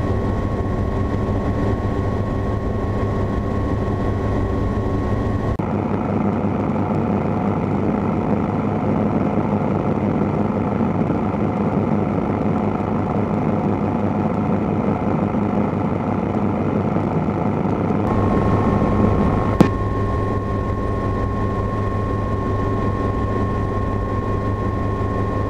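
Helicopter in flight between Chico and Orland, its rotor and turbine forming a loud, steady drone that runs close and unbroken throughout, with slight shifts in tone partway through.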